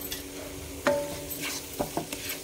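A spiced curry mixture with cumin powder, garam masala and coriander powder stirred in a pan, heard as a few scattered scraping and clinking spoon strokes over a soft continuous background, close and moderately loud, with no speech.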